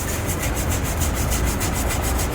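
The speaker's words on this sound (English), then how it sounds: "I'm going to come back and I'm going to clean each one of my weld nuts" A nylon toothbrush scrubbing the weld nuts on a 2017 Chevrolet Traverse frame during a trailer hitch install, a fast rhythmic back-and-forth brushing rasp, close and steady, with no talking.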